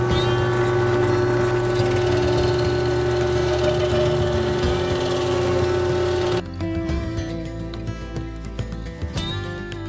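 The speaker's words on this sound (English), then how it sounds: "I'm going to rough out this mortise for the tenon with this 1-inch Fastener bit" A drill fitted with a 1-inch bit roughs out a mortise in a long post for a firewood shed. It runs as a loud, continuous motor whine, then drops abruptly to a lower, rougher running sound partway through.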